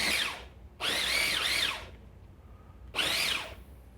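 Electric grinder whirring through vanilla seeds and cranberries soaked in Grand Marnier, three loud bursts of motor whine separated by brief pauses.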